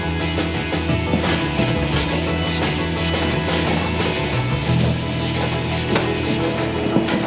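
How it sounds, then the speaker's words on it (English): Car paint being wet sanded (wet flatted) with a sanding block and water mixed with a little washing-up liquid, a close, continuous rhythmic rubbing with repeated back-and-forth strokes. "this is wet flatting"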